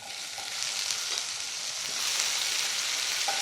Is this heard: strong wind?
no